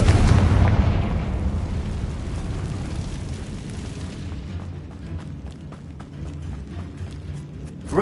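Confringo blast spell in Hogwarts Legacy on PS5: a loud, close explosion that bursts at once, then rumbles and decays into a long fading tail of debris and crackle, with no talk.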